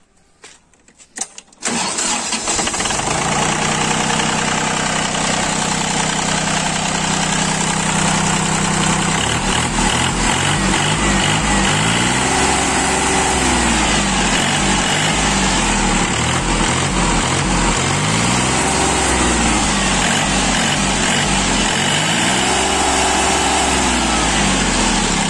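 Iseki 317 tractor engine cranking and catching, then running loud and steady at close range with rhythmic rises in revs throughout.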